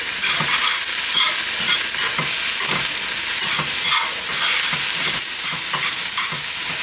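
Spinach leaves sizzle in a hot pan while being stirred and scraped in steady, repeated strokes, a close, continuous frying hiss with no talking.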